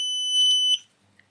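A multimeter's continuity beep, with its volume turned up, rings as a single loud, shrill tone that holds steadily for about three-quarters of a second and then cuts off abruptly, followed by near silence.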